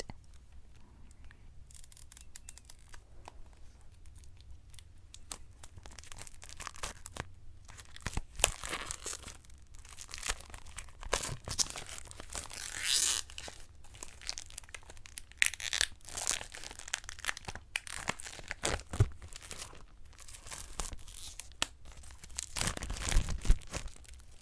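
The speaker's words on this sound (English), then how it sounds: "So it's just in this little plastic, or little packet wrapped in plastic." Thin plastic wrapping crinkles and tears off a small packet of origami paper in close, quiet, irregular bursts of rustling and crackling, with no talking.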